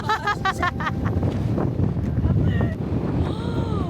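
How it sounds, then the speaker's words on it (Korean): Strong winter wind gusting across the Snæfellsnes peninsula in Iceland, a steady broadband roar buffeting the microphone throughout, with people speaking and laughing briefly at the start. "바람이 너무 불어"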